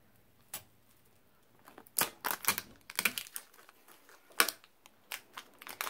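A multi-needle embroidery machine stitching a hat, giving sharp irregular clicks and ticks that come close together in bursts.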